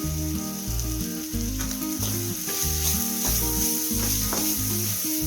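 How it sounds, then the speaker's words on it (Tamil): Fish masala sizzles and fries in a pan with a continuous crackling hiss at close range, with a steady melodic music track playing underneath. "நல்லா வதங்கட்டும் மசாலாலாம்."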